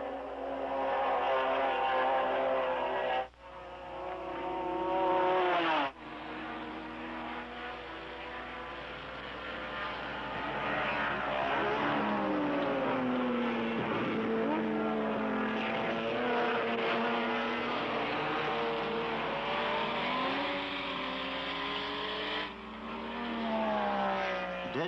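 Several racing cars, including a 1972 Nissan GT-R and a rotary-engined Mazda Savanna RX3, scream close by at Fuji, pitches rising and falling as they accelerate and shift, a continuous loud roar with brief dips.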